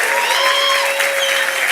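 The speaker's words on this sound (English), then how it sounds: "Give her a round of applause," A crowd at the opening of a light rail connection applauds loudly and steadily, dense close clapping with a sustained high tone, like a whistle or cheer, ringing over it.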